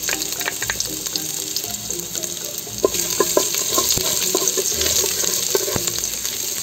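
Sliced ginger sizzles and fries steadily in hot cooking oil, a close, continuous crackling hiss with scattered pops and spatters throughout.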